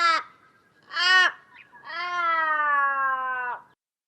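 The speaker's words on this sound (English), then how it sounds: "This is the Australian raven." Australian raven calling: two short sharp caws followed by a long, drawn-out wailing call that slowly falls in pitch at the end, clear and close with no other sounds.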